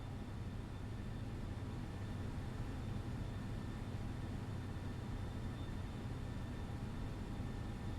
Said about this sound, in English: Airbus noises.